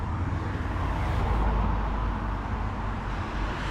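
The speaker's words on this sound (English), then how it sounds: "waiting for traffic" Steady road traffic rumbles at a roadside crossing where runners wait mid-workout, cars passing close by in a continuous loud wash of engine and tyre noise with no clear gaps.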